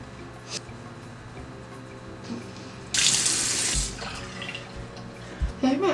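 A bathroom tap runs for about a second in a burst of broadband water noise while someone washes their face, with quieter background rustling and a few small knocks before and after.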